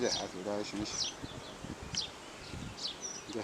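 Honeybees buzzing at a ventilated hive fitted with a mirror and window: a steady, close insect hum runs throughout while a person talks over it.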